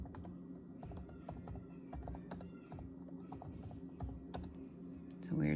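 Rapid, steady clatter of computer keys being typed, a continuous run of clicks with a brief louder shuffle at the end.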